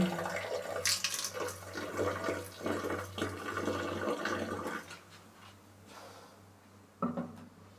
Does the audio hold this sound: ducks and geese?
no